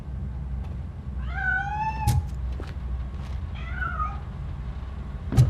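A cat hidden inside a piano in RoboCop: Rogue City meows twice, two clear drawn-out cries a couple of seconds apart over low background ambience.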